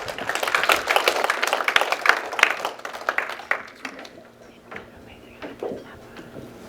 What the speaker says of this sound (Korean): 우리 박수로 환영하게 드리겠습니다.